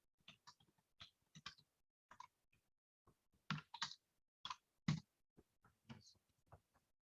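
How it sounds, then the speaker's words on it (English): Someone types login details on a computer keyboard, with irregular clicks and short bursts of keystrokes separated by pauses, quiet and close, with no talk. "I'll be typing my information in"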